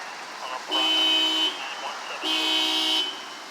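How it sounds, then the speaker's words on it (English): A malfunctioning car alarm goes off outdoors in a mall parking area in light flurries, its harsh, horn-like tone sounding in two sustained blasts of about a second each with a brief gap between them, moderately distant. "Somebody's car alarm is malfunctioning."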